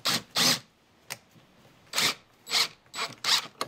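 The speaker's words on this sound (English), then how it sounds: "we'll drive this first screw in" A power drill fitted with a driver attachment drives a pocket-hole screw into wood, using a Kreg K5 pocket-hole jig, in short bursts of whirring with brief pauses between them, close and fairly loud.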